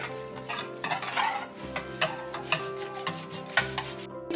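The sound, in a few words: stirring soap flakes to dissolve them for homemade laundry detergent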